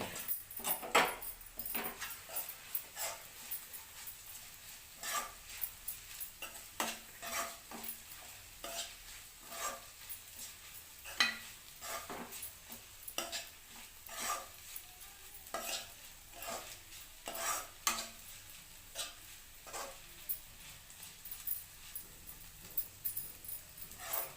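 Okra fry with chili powder and garlic is stirred in a pan, producing repeated scraping strokes of a utensil against metal at an irregular rhythm over a low, quiet sizzle.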